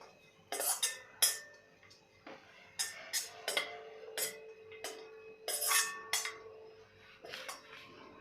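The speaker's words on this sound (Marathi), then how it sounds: "आता यामध्येच आपण हे खोबरं सुद्धा भाजून घ्यायचं आहे।" Coconut roasting in a pan for makhana ladu is stirred with a metal spoon, producing quiet, irregular scrapes and clinks against the pan at close range.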